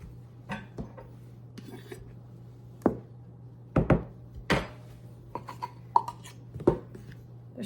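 Spoon scraping and tapping against a Fiesta ware bowl while measuring flour for homemade noodles, scattered light knocks and clinks spaced irregularly in a quiet kitchen with a steady low hum.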